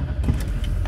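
A 2003 Chevy 2500 pickup's 6.6L Duramax diesel starts up, its heavy low rumble close and steady through a brief moment with no talking.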